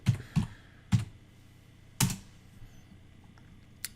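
Keys clack on a computer keyboard in a few sharp, separate taps with gaps between them, close and crisp against a quiet room.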